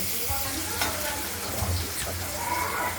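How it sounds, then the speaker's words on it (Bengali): Small diced potatoes frying in a pan for a Bengali ash gourd curry, a dense close sizzle with clinks and scrapes of stirring scattered throughout, no voices. "ছোটো ছোটো করে কেটে রাখা আলুগুলোকে আমরা ভেজে নেব।"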